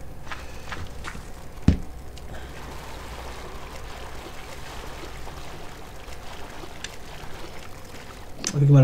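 Splashing, flowing water as a character moves through water in MineClone2, a Minecraft-style game, with a soft continuous wash, a sharp knock near the start and a louder swell at the very end.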